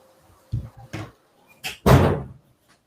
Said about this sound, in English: I'm just going to close my door because my cleaner's hoovering